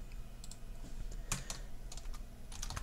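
Quick bursts of keystrokes on a computer keyboard while Python Selenium test code is written, with irregular taps and short clustered runs close by in a quiet room.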